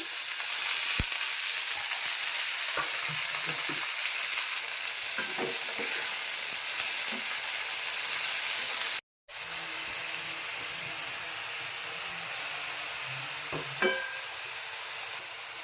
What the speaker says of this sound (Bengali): পেঁয়াজ ভাজা হয়ে গেছে, আমি এখন শাকগুলো ছেড়ে দিচ্ছি।